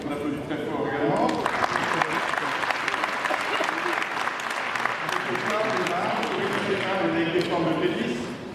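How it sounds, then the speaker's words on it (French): Crowd applauding loudly and continuously at an Open du Nord tennis event in Lille, a dense sustained clapping with voices and murmurs mixed in beneath it. "on applaudit très fort également"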